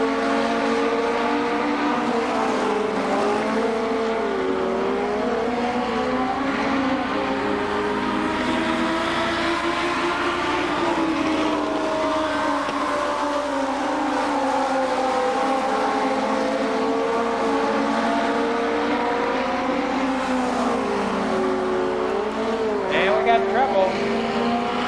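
Race cars roaring around Columbus Motor Speedway during the Fall Speedfest stock car event, a steady loud engine drone with rising and falling pitch as cars circle, under continuous announcer commentary.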